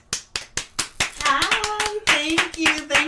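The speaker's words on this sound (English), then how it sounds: "Loud talkers, give a round of applause and a hey to Dr. Kenycia Byrd." Clapping for a speaker at a talk on social media and adolescents: a few distinct, evenly spaced hand claps up close, then a voice talks or cheers over continued claps.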